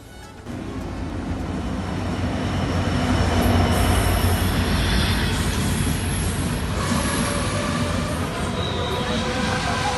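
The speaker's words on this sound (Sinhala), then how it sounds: "ටිකක් පරක්කු වෙලා කෝච්චිය කොකුවිල් රේල්වේ ස්ටේෂන් එකට ආවා" A train pulls into Kokuvil railway station, its loud rumble building over the first seconds into a sustained roar of rolling wheels with metallic squeals, heard up close on the platform.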